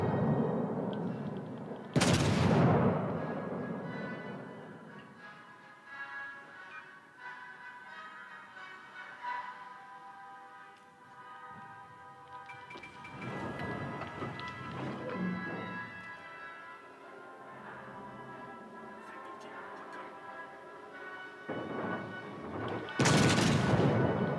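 Warship turret guns fire in World of Warships: Legends, with two loud booming salvos at the start and end, a rumbling mid-section, and naval battle ambience between.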